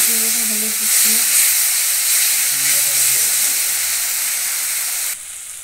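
Tomato paste hitting a hot pan of fish masala with a loud, steady hiss and sizzle that holds strong for about five seconds, then drops abruptly near the end.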